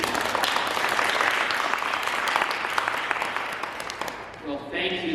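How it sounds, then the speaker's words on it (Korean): Audience applause at a Korean community forum in Canada, a dense, loud wash of clapping that fills the room for several seconds before tapering off near the end. "두 분께 큰 박수 부탁드리겠습니다"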